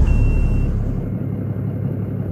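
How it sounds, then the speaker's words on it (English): Steady, loud low-pitched drone of a Cummins 525 hp truck engine in the American Truck Simulator game, idling or cruising evenly with a faint high whine near the start and no talking. "Now you guys are wondering, why does this engine sound weird?"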